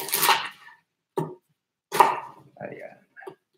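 A knife chops onion on a cutting board in a few separate, sharp, close knocks with pauses between them, near a home cooking setup; a voice may be mixed in with the chops.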